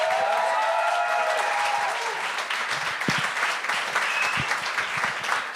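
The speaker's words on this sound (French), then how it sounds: "faites un tonnerre d'applaudissements pour celui qui brise la glace, Nicolas Gabriel!" A comedy show crowd applauds as the first comedian is introduced, loud continuous clapping with a few cheers, while musical tones ring out at first and then fade away.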